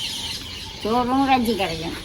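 Chickens and chicks cluck and chirp close by during feeding time, with a short burst of bird calls in the middle of the clip over a quiet background.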